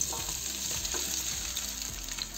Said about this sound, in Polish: Do dużego garnka wlewamy olej i go rozgrzewamy. Wrzucamy całą kiełbasę